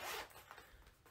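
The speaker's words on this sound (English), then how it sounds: "But it also has another zipper" A handbag zipper pulled open in one quick, close, faint rasping stroke lasting about a second.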